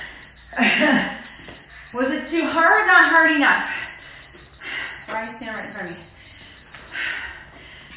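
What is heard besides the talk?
alarm sounding to mark the end of a workout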